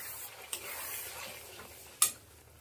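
Cashew-raisin paste being stirred into spiced masala in a pan for a cauliflower-potato curry, with soft scraping and a low sizzle, plus a sharp utensil clink near the end.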